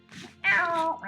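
A cat in Minecraft meows twice, a short soft mew and then a louder drawn-out meow with a brief tail, close and clear.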